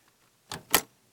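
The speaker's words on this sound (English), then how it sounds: "You have to have a door because someone's going to go through a door somewhere sometime." A door used as a sound effect opening and closing: two short, close knocks or clunks about a quarter second apart, alone with no talk.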